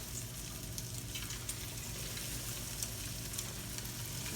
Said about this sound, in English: now we're gonna put this in the fryer and let it fry off here